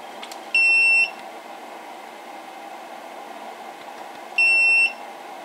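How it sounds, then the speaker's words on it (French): Two short, high-pitched electronic beeps from a multimeter, a few seconds apart, over a faint steady hiss. "il vient de faire 3 petits bips"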